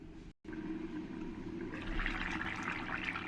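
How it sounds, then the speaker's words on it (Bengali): Water is poured into a pan of fish curry made with katla fish, a gentle, steady trickle that grows slightly fuller partway through. "এবার আমি জলটা দিয়ে আবার চার পাঁচ মিনিটের জন্য ঢাকা দিয়ে রাখব"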